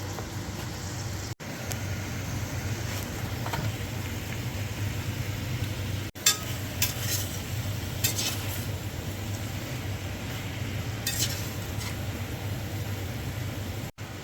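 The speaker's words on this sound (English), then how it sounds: "we'll just put these into the stir fry first" Ginger beef and cabbage sizzling in a stir-fry pan, a steady hiss of frying with occasional utensil clinks and scrapes near the pan.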